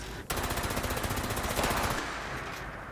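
Rapid, continuous bursts of electronic weapon fire rattle loudly for a few seconds after a brief pause, a dense stream of repeated zaps with no talking.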